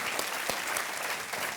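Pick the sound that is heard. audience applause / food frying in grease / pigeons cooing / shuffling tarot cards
audience applause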